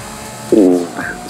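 A brief tire squeal from a brake lockup in Forza Horizon 5, driving with ABS and assists off in a circuit race, rising suddenly as a loud, tonal screech lasting about a third of a second before fading.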